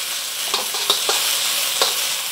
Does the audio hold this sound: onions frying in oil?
yes